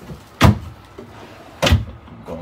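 Two solid wood kitchen drawers in a 2021 Grand Design Imagine XLS 24MPR travel trailer shut with firm, hollow thuds about a second apart, close by in a quiet interior.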